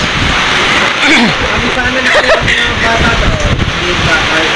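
Heavy rain and gusting wind from Typhoon Kristine roar continuously and loudly close to the microphone, with voices talking under the storm noise.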